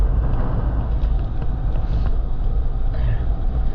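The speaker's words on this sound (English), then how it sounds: "Those Lexus IS 350s sound like garbage with an exhaust system." A Lexus IS 350 fitted with an aftermarket exhaust drones past as a loud, continuous low engine rumble. The roar holds steady throughout without any speech.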